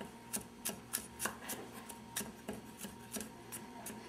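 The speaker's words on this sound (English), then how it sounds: "And I like chopping my garlic." Garlic being chopped with a knife on a board: about a dozen crisp, evenly spaced cuts in a steady rhythm, close and fairly quiet, with no talking.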